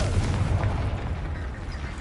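A Confringo blasting spell exploding in Hogwarts Legacy: a deep, loud, booming blast that rumbles and slowly fades over two seconds.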